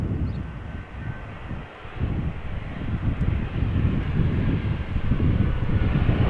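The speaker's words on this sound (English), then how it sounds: "next up, Embraer 190, arriving from Dublin" An Embraer 190 airliner arriving from Dublin, Ireland, at Amsterdam Schiphol, a low rumbling jet roar that grows gradually louder over steady wind buffeting on the microphone.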